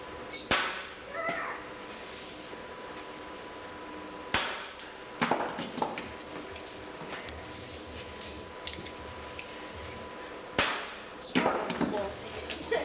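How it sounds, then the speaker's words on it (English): A sledgehammer drives a chisel into wood: a handful of sharp, widely spaced blows ring out close by against a quiet background, with faint voices and a brief cat-like meow. "you take the sledgehammer and you pound it with the chisel into the wood"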